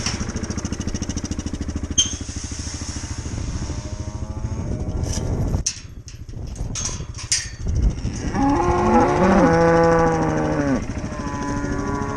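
Cattle on a farm in a winter freeze moo loudly and close by, with several long drawn-out calls overlapping over a steady rumbling engine-like drone.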